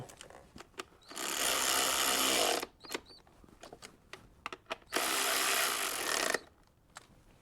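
A power tool tightens bolts on a HEMI engine's spark plugs in two steady whirring bursts of a few seconds each, separated by light clicks and handling noises, close and loud.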